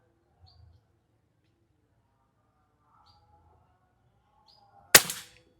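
A single sharp crack from a Daystate PCP air rifle, a Bocap 500 cc, fires near the end, with a short decaying tail after it. Faint bird chirps and quiet ambience come before the shot.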